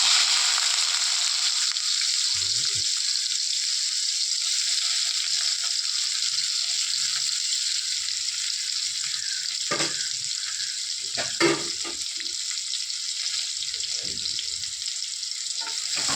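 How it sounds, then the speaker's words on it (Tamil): Onions dropped into hot oil for a chicken liver gravy, a loud continuous bright sizzle with occasional stirring scrapes and a few sharp crackles, no talking. "ஓகே, இப்போ எண்ணெய் நல்லா சூடாயிடுச்சு. சூடானோன்னா கொஞ்சம் ஆனியன் போடணும்."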